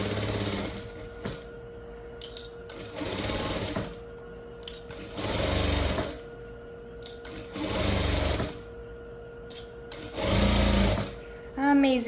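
A domestic sewing machine stitches fabric for a halter-neck flared dress in four or five loud bursts of rapid mechanical whirring. Someone talks in the quiet gaps between runs.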